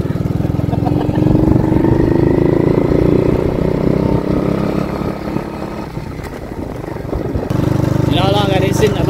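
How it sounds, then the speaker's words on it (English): A motorcycle carrying a passenger on the back chugs along in Guyana, the engine steady and close, dipping quieter near the end before picking up again, with voices talking over it. "Ages since I sat in the back of a motorcycle."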